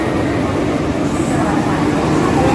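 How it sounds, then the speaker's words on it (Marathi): The Gondia Superfast Express arrives at Wardha Junction railway station, a loud, steady rumble of rolling wheels and carriages filling the platform without a break. "आणि ही गाडी आलेली आहे आता गोंदिया सुपरफास्ट एक्सप्रेस"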